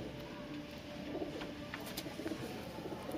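A pigeon kept by a pigeon fancier coos softly and low in the background amid steady outdoor noise, with faint bird chirps scattered through.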